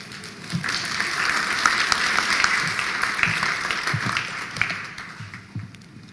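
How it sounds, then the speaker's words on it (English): Audience applause at a university commencement ceremony: sustained, dense clapping from a large crowd filling the hall for about six seconds, then thinning toward the end. "let's give him another round of applause"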